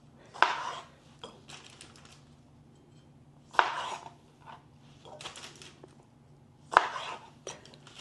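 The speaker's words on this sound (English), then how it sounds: "First, I'm going to cut up the tomatoes." A knife chopping tomatoes on a board, three sharp, distinct chops spaced a few seconds apart with quieter knife taps and scraping between them, close up with a faint background hum.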